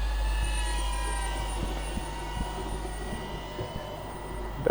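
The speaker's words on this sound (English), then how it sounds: "Start the drone now." DJI Avata 2 drone fitted with a VIFLY lighting system flying, with a steady whirring buzz from its propellers that stays constant and fairly close throughout, carrying faint tonal hums and a few light knocks.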